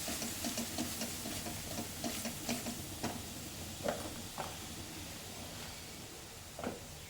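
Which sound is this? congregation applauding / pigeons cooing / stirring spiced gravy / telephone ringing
stirring spiced gravy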